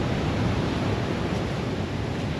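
Ocean waves along the coast at Casiguran, a steady broadband wash of surf close and fairly loud, with no voices.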